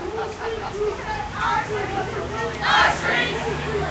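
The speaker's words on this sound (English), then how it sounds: "Big crowd of about 75 people." Crowd of about 75 protesters outside a Verizon Wireless store on a street, a continuous outdoor babble of overlapping voices and chatter at moderate distance, swelling slightly in places.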